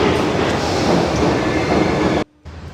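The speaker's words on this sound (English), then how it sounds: "That's the tram we're going to take." A Paris tram or train rumbling loudly and steadily, with dense low-end roar and rail noise, then cutting off abruptly near the end with a quieter hum.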